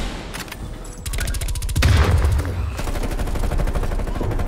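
Rapid bursts of video game gunfire rattle loudly and near, continuous over several seconds with a heavier boomy stretch in the middle, no talking over it.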